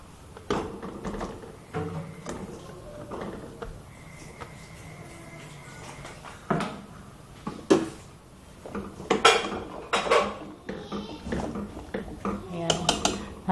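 A lid set back onto a cooking pot of ginataang halo-halo with banana, ube and sweet potato, giving sharp metallic clanks among scattered utensil clinks while someone speaks nearby.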